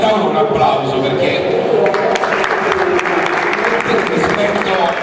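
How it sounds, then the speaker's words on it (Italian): Audience applause for a parent at a round-table discussion, steady dense clapping that carries through the whole stretch, with speech-like chatter mixed in. "io vorrei fare a questo primo genitore un applauso"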